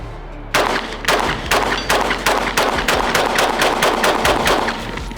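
Rapid, evenly spaced gunshots from a new FN concealed carry pistol, about a dozen sharp loud reports in quick succession, close and unaccompanied by talk.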